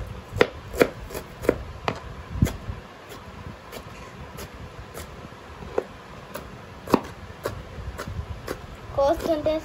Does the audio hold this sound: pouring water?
no